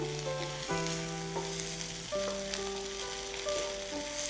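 Cut idli pieces and softened onions sauté in a hot pan, a steady frying sizzle running under continuous background music with sustained tones.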